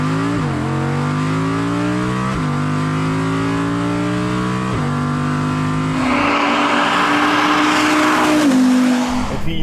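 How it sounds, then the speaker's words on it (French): An Audi R8 V10 Performance accelerates hard, its engine note climbing through three rising runs broken by quick gear changes, then a rougher, louder, throaty surge near the end, heard from inside the car with no talking. "quel que soit le régime auquel on écrase la pédale d'accélérateur et ça y va quoi"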